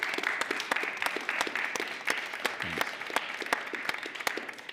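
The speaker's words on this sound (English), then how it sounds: "Let's give him a round of applause here" Applause from an audience at a Senate staff talk welcoming a guest speaker, a moderate wash of many hands with a few sharp claps standing out, steady throughout.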